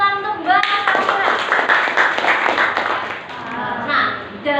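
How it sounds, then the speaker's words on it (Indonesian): Classroom clapping for a student named Sandra, a short burst of hands from a group of pupils, fairly loud and close, with children's voices chattering over it. "Oke, tepuk tangan untuk Mbak Sandra."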